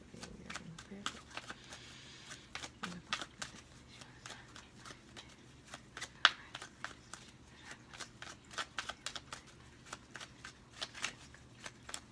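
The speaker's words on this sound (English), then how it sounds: "we're going to shuffle this one more time for you" Tarot cards are shuffled in quick riffling bursts, close and soft, with faint talking underneath.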